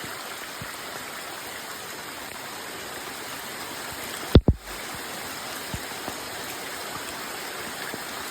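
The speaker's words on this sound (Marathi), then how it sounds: "आता पाऊस पण येलो मोठ्यान." Heavy rain pours at a river at night, a steady dense hiss of water filling the whole stretch, broken once midway by a brief, sharp nearby knock.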